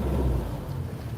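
A narrowboat's engine runs steadily as a low, continuous rumble with wind noise over the open deck, close and fairly loud throughout, with no talk.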